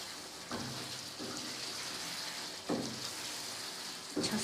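Tomato masala for Patiala chicken sizzles and fries in a pan, a steady close crackle with a few louder bursts as it is stirred.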